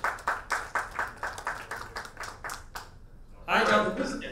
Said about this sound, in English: Please give him a big round of applause for that question